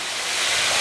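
Torn chapati noodles sizzle in a pan with soy sauce stirred in, a brief, even hiss that swells slightly and carries no voices.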